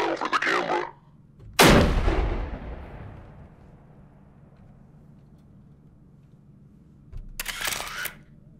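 In the video game Sniper Killer, a loud shot cracks and rings out in a long decaying tail, bracketed by two shorter sharp bursts of noise at the start and end, with no talking.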